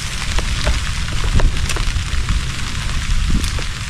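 Light drizzle falling outdoors during a harvest near a swelling river, a steady broadband hiss with scattered soft drop ticks and low rumble, no talk.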